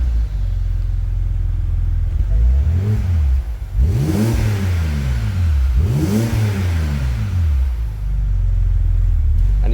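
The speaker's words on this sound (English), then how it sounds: "265 horsepower 3-litre straight 6 BMW engine, the same engine that they used to put in the 330i's" The 265 hp 3.0-litre straight-six in a 2009 E87 BMW 130i M Sport revs twice, each blip rising and falling smoothly over a low idle rumble, heard close and loud.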